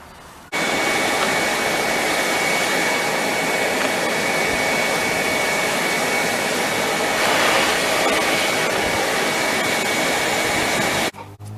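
A rotary hammer with a flat chisel blade bites into concrete, a loud steady high-pitched grinding roar that runs unbroken for about ten seconds before cutting off abruptly.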